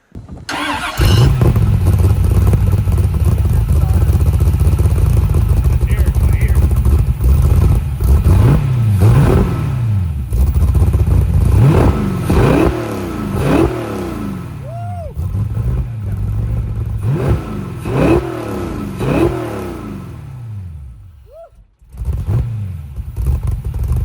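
A loud 5.3 LS V8 engine in a Porsche 911 revs repeatedly in sharp bursts over a rough idle, with brief pauses between throttle blips and a quieter moment near the end.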